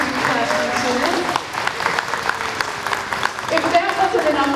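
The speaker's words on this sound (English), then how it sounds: "round of applause to our pre-entertainment, our pre-classroom students." Audience applause at a youth pride program's year-end celebration show, loud, close clapping that dips briefly midway then picks up again with scattered cheers and crowd voices.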